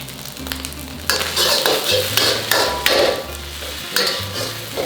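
Phat ngo-ngae stir-fried in a pan over a modest home flame, loud crackling sizzle with repeated scraping strokes of a spatula at a steady rhythm, no talking.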